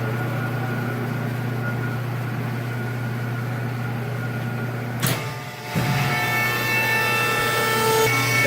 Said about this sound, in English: That noise you hear is the hydraulics